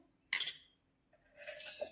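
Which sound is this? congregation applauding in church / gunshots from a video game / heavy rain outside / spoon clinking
spoon clinking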